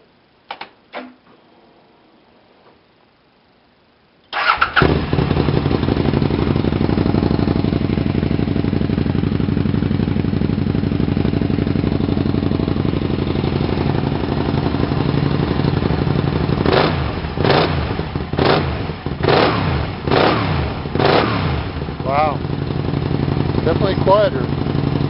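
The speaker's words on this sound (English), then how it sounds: "Okay, I put that little noise cone in, and it's supposed to be 10 decibels quieter, so we'll see." A Can-Am Spyder with a Venom exhaust and noise cone fitted starts up and idles with a steady, loud engine rumble, with a few revs later on and a person talking over it.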